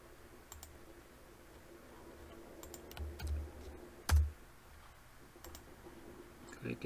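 Mouse and keyboard clicks on a computer as a query button is pressed, a few sparse sharp clicks with one louder click, under ongoing talk.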